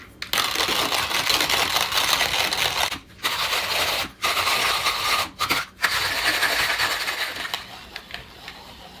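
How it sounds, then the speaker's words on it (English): Hand-cranked coffee grinder crushing about 17 grams of beans on its coarsest setting, a close, gritty grinding rasp in long bursts broken by several short pauses, tapering off at the end. "So now I'm going to grind this out at the biggest setting."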